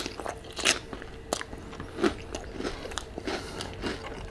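Crunchy bites into a burrito with refried beans, cheese and hot Cheetos at a Mexican food mukbang, heard as a few close, crisp crunches and chewing sounds spaced through the clip with no talking.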